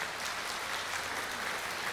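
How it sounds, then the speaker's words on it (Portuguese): A church congregation at a formal Sunday service claps for its pastors, a dense, steady wash of applause lasting a couple of seconds at moderate, slightly distant volume. "Deem uma salva de palmas."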